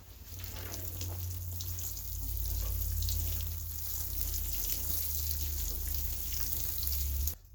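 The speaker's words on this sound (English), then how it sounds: "So I'm going to go ahead and water this" Water pours steadily onto seedling mix in a pot being prepared for planting onion bottoms, a close, continuous splashing hiss that cuts off sharply at the end.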